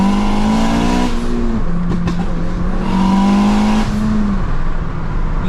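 A tuned 500bhp Honda Civic FN2 Type R engine revs hard and climbs steadily in pitch through a fifth-gear pull, loud and close, with a brief shift dip before rising again.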